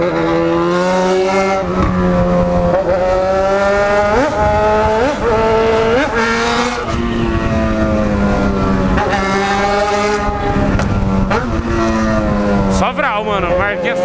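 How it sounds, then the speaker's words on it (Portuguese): A Yamaha XJ6 motorcycle engine revs loud and close, rising and falling repeatedly in pitch with each twist of the throttle, a person's voice briefly audible near the end. "Escuta o barulho da moto junto com o movimento da minha mão"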